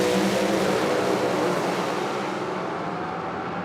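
A Pro Mod drag racing car launches hard from the starting line in an IHRA quarterfinal, a dense, loud engine roar that stays close and continuous before easing off slightly as the car pulls away.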